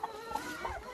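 Laying hens cluck softly while being given treats, a brief faint murmur of low clucks from nearby birds.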